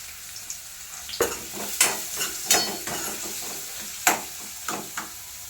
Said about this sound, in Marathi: लगेच मिरची पण टाकून घेते. दोन्ही तळून घे.